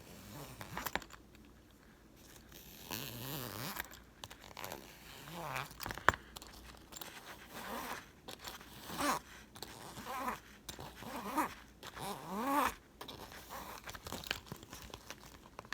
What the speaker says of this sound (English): the zipper, which can make some great scratching noises.